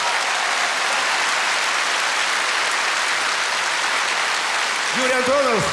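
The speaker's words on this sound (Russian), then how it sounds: "Давайте его искупаем в овациях." Concert audience giving a long, dense ovation at an anniversary show, steady uninterrupted applause filling the hall throughout, with a brief high electronic tone near the end.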